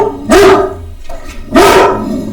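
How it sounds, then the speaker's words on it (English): Dogs barking nearby, two loud sharp barks about a second apart, separated by quieter background noise, with no talk. "Oh, the other dogs."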